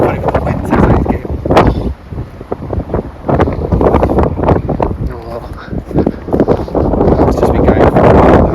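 Wind gusts roar across a microphone in woods at dusk, a steady low rumbling buffet with louder surges, while people talk over it.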